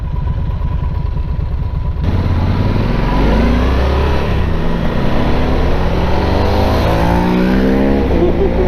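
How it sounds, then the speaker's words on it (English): A Ducati motorcycle engine rises loudly from about two seconds in and sweeps past nearby, its pitch climbing as it accelerates over steady road and wind noise. "I think that's like an old guy with a Ducati."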